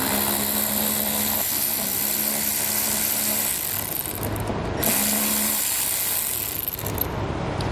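Ratchet loosening a 10mm bolt on a 2014 Honda CR-V, steady mechanical clicking with shop background noise throughout, no talking.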